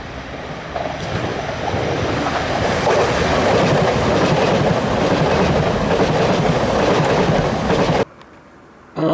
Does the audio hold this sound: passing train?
yes